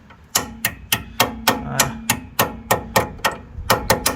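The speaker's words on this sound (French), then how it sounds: "On va prendre une petite clé. On va venir tapoter." A small wrench taps on a Toyota Corolla rear shock absorber, about a dozen sharp metallic knocks in a fairly even rhythm, close and loud, with a brief spoken word.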